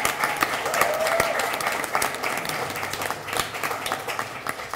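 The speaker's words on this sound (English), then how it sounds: "Let's give them a round of applause." Audience applause at an outdoor city hall Christmas tree lighting ceremony in Yonkers, a dense steady wash of clapping from a sizable crowd that holds throughout at fairly even loudness, with faint voices mixed in.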